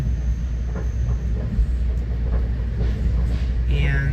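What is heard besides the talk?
NJ Transit express train riding on rails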